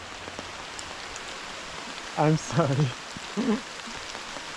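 Rain falls steadily on the surface around a wild campsite in the woods, a soft constant patter heard close up while a person speaks briefly.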